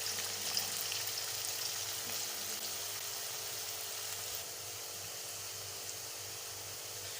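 Potato karanchi snacks fry in oil in a kadai over a moderate flame, a steady even bubbling sizzle, close and constant for the whole stretch with no talking.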